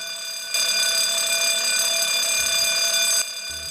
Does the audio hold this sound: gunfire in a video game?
no